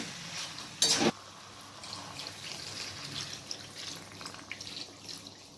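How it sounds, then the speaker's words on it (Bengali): Hot water goes into a pan of long-fried mutton: a brief loud splash, then a steady low sizzle and hiss that carries on alone. "এরপর আমি এখানে গরম জল দিয়ে দিচ্ছি।"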